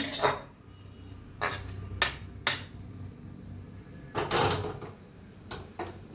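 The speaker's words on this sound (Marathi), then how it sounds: "आता तीच कढई ठेवलेली आहे, गरम करूया चांगली।" A kadhai is set down on a home kitchen stove while a pumpkin dish is being cooked, giving several sharp metallic clanks and scrapes spread across a few seconds with quiet pauses between.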